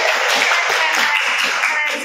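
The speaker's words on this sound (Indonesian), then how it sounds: "Tepuk tangan dong semuanya." A school audience claps in a dense, steady patter of many hands, bright and close, holding evenly for a couple of seconds with no clear voices over it.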